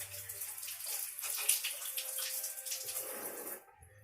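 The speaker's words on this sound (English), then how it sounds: "I need to wash my hands." Tap water runs and splashes into a sink while hands are washed beneath it, a close steady rush with shifting splatter that stops abruptly near the end.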